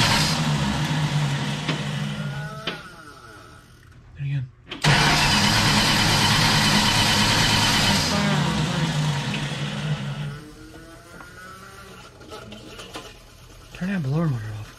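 A 1970 Dodge D-100 Sweptline pickup's Mopar 318 V8 cranks, catches and runs loudly up close, then settles into a rough idle, with people talking over the engine.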